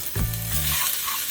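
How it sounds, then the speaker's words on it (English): Brown sugar, fish seasoning and scotch bonnet pepper sauté in a pan for an Asian fried fish dish, with a brief stir and a steady close sizzle that holds on without any talk. "Drop that in, and we're gonna saute everything."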